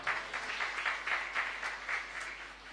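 A church congregation claps loudly together in sustained, uneven applause that swells in waves and holds steady throughout, with no talking over it.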